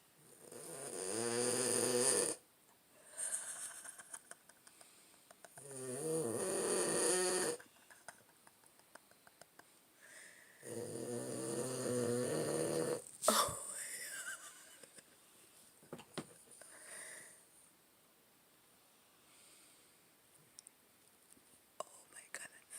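A pet sleeps and snores in a quiet room, three long rasping snores spaced a few seconds apart, close and fairly soft, followed by faint rustles and a few quiet whispered voices.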